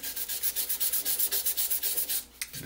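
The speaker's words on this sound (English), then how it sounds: "just gonna sand it while it's turning here" Sandpaper rubs against a spinning wood piece on a lathe, a steady rhythmic rasping that pulses about five times per second, close and moderately loud, then briefly cuts out near the end.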